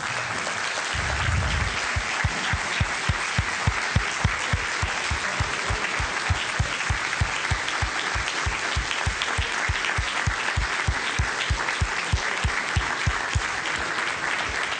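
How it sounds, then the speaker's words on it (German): Huge, continuous audience applause for the speaker Willy Wimmer at a public talk, steady loud clapping that settles into rhythmic unified beats from start to finish. "ich möchte Sie bitten, dass Sie nochmal einen riesigen Applaus für Willi Wimmer spenden."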